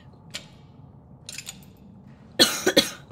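Harsh coughing bursts, two or three in quick succession, loud and close near the end after a couple of faint earlier noises.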